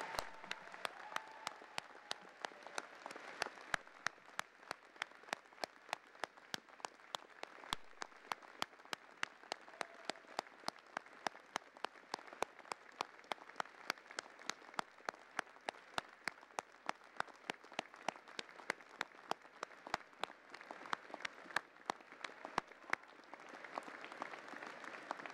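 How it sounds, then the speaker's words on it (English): Applause at a spring university convocation ceremony rolls on for a long stretch, a soft, distant wash of many hands with regular sharper claps popping through, fairly quiet and steady without talk. "give a huge round of applause to all the people who supported you throughout"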